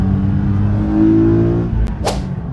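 A Nissan 370Z pulls away under light throttle, its engine note a steady, close drone that rises slightly and then eases off, with a brief whoosh near the end and no talking.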